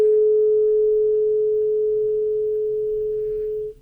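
A steady pure 440 hertz tone rings alone, loud and unwavering, sounded to set a small ball resonating, holding for several seconds before cutting off abruptly.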